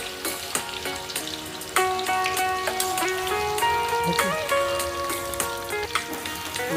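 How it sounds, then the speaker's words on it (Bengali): Boiled potatoes fry in hot oil in a wok, giving a steady rain-like sizzle beneath prominent background music, with occasional clinks. "তেলটা গরম হয়ে গেছে, এবার সেদ্ধ করা আলুগুলো দিয়ে ভেজে নেব।"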